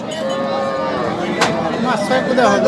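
Cow mooing at the Ambari cattle market, a long drawn-out low call rising over steady crowd murmur and distant voices at a busy livestock sale where cows and calves are traded.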